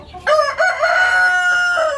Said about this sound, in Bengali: এটা BLRI এর হিলি মুরগি।